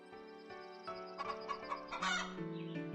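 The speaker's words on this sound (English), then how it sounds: "the chickens are having probably not the best time, actually" Chickens cluck and a rooster crows faintly in the farming video game Hearthlands, a busy flock murmuring continuously at low volume with a few louder squawks near the end.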